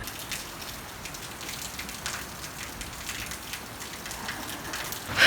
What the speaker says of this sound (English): I got caught in a downpour on the walk back to the hostel.